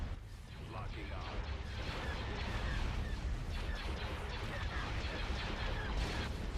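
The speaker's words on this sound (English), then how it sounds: "Form up, direct fire at their laser cannons." Laser cannon fire during a space battle in the Star Wars Empire at War strategy game, heard as a dense, continuous barrage of booming blasts and crashes that stays loud throughout with no gaps.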